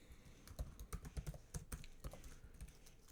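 Quiet, rapid typing on a computer keyboard while writing JavaScript code, with irregular bursts of soft key clicks and no talking.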